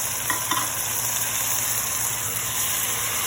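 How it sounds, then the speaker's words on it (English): Pork butt hits a pan of cooked onion and garlic and fries with a steady loud sizzle, a couple of faint stirring clatters early on. "that our onion and garlic is cooked, we can now put our pork"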